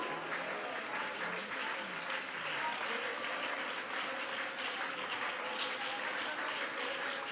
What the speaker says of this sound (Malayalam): കയ്യടിച്ച് സ്വോത്രം പറ കുഞ്ഞേ